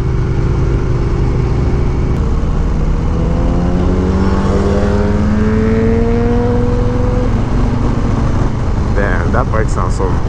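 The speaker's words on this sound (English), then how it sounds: "bike sounds so good." Motorcycle engines revving and accelerating during a group ride alongside a Harley Low Rider S, rising and falling engine tones passing loudly and close, with a voice speaking briefly over the roar.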